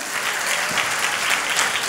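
A church congregation claps together in sustained, dense applause through the whole short moment, with no voices over it.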